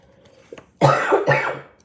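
Two harsh, close coughs in quick succession, preceded by a faint throat noise.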